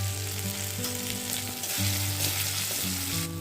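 Spices with ginger paste, turmeric, cumin and chili powder fry in oil for a fish head curry, a strong close sizzle and crackle under steady background music.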